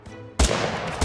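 Gunfire in the video game TABS during a battle of Germans against Vietnamese and American units, starting abruptly as a loud, dense burst of shots after a brief quieter moment.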